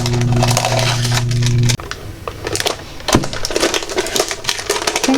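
Cutting the corners of a large oval resin free-form bowl: crisp snips and cracking crunches in irregular bursts, close up, following a steady low mechanical hum that stops early.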